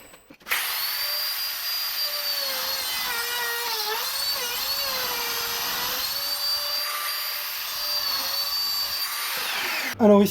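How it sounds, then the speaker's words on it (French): A pillar drill with a countersink bit bores 8 mm holes through old wood from a cart under restoration, a steady loud whine with a faint shifting pitch that runs unbroken for about ten seconds before stopping. "Je vais tout percer au 8 avec la perceuse colonne et un fourré."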